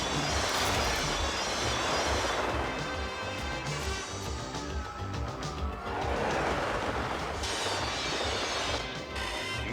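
A train braking hard toward a terminal after its passenger cars are uncoupled, with loud sustained metallic screeching and grinding rail noise, squealing wheels rising and falling over steady rumble.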